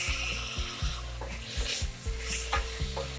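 Chopped tomato hits a hot frying pan of methi dal base and sizzles steadily, with repeated scraping stirs of a spoon against the pan in a loose rhythm, close and clear with no voices.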